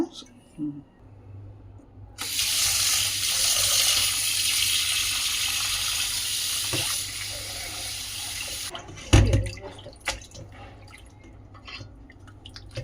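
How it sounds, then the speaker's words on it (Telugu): Half a kilo of raw mutton rinsed in water, with a steady rush of running water for several seconds followed by drips, splashes and handling sounds, close up. "ఇట్లా నీళ్ళల్లో వేసుకొని ఇట్లా వేరుగా ప్లేట్లోకి తీసుకొని మూడు సార్లు కడుక్కోవాలి"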